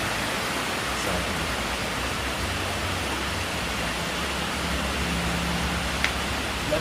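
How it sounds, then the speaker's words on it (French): Rain pours down on a city street as a constant, even wash of noise, close and full, with a couple of faint ticks and no talk. "La pluie, c'est dans la tête."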